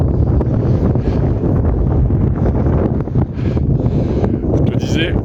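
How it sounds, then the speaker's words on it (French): Strong mountain wind on a hike up Mont Canigou buffets the microphone in a loud, continuous roar with gusty surges, under occasional talking. "désolé beaucoup de vent pour cette vidéo"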